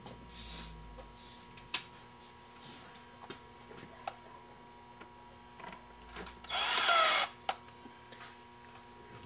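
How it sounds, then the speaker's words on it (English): A power drill set to low torque drives screws during a motor swap on a Rovac unit, giving one short whirring burst amid scattered quiet clicks and taps. "we got it on a setting of a low torque setting on our drill"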